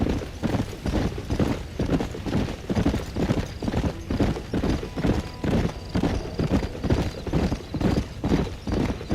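A horse gallops in the Red Dead Redemption video game, its hooves giving a steady, rhythmic, close clip-clop beat throughout, with faint tack and ambient noise.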